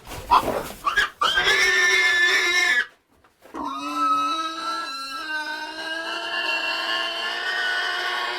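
A sow on a Corsican farm gives a short burst of grunts and squeals at first, then after a brief pause a long, steady, close and loud harmonic squeal or call that carries on to the end.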